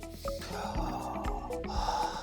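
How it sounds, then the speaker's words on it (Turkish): A person draws breath in and out through the nose in a demonstration of correct diaphragmatic breathing, giving close, snort-like inhales and exhales over a steady tonal background. "Bak nefes alırken karnım nereye gidiyor?"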